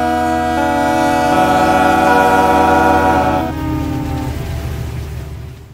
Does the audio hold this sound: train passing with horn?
yes